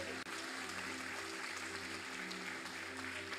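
Church congregation applauds God during a sermon, a continuous, even wash of clapping heard at low level over a steady hum from the room's sound system.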